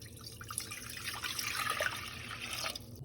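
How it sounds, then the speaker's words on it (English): Tap water runs into a cooking pot, measured out as three and a half cups for boiling rice, a steady close splashing stream lasting about three seconds before cutting off. "3½ cups of water."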